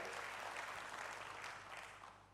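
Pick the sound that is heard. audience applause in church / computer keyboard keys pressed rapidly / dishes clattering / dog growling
audience applause in church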